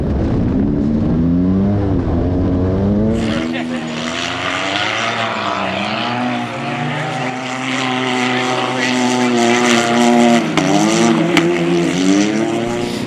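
Can-Am UTV race engine at the Mint 400 off-road race screams up through its revs as it launches, loud and close with rising, wavering tones over a dense roar, someone talking under it.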